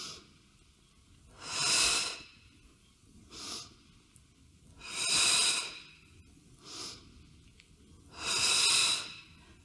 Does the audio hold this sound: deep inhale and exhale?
yes